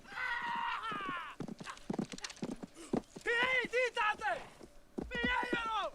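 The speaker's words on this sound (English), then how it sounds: "they took his horse" Horse hooves clop in a scene from the 1990 film Dances with Wolves, mixed with whinny-like calls and people talking over the action.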